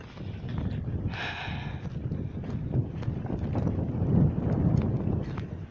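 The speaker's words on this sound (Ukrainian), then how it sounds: "який вітер" Strong wind buffets the microphone in a steady, rumbling roar that swells toward the end, with no voices.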